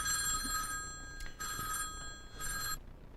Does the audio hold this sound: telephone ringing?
yes